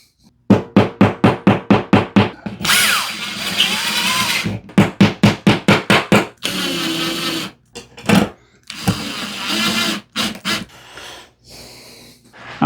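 A plastic sheetrock anchor is driven into a drilled hole in drywall to mount a wall sconce, with a run of rapid sharp taps, bursts of power-tool whirring and more quick strikes, loud and close.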